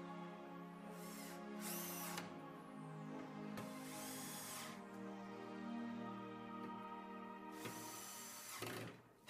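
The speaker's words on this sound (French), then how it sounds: "vissez les vis à bois de la tétière et les vis métal" A power drill drives wood and metal screws into the strike plate and faceplate of a three-point door lock, with several loud whirring bursts separated by pauses.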